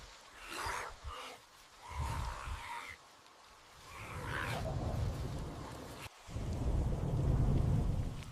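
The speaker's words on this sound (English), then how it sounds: "In the midst of a sudden tropical downpour" A sudden tropical downpour with thunder: deep rolling rumbles swell and fade in waves over a hiss of heavy rain, the storm building louder toward the end.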